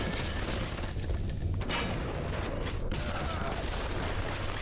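An automated turret in BioShock fires a dense, continuous burst of gunfire over mechanical clatter, loud and close throughout.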